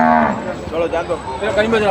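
Cattle at the Erragadda buffalo market in Hyderabad give a loud, close, drawn-out moo lasting the full two seconds, with faint market chatter beneath.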